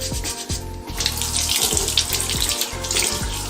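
A kitchen tap runs steadily into a sink while a homemade PCB is wetted and scrubbed with soap, a loud, close, continuous splash with small shifts as hands move under the stream.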